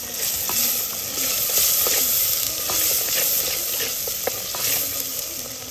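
Salt, coriander-cumin powder and turmeric go into simmering Gujarati panchratna dal, heard as a steady close hiss of cooking with light scattered ticks and scrapes of a spoon in the pan, with no voices.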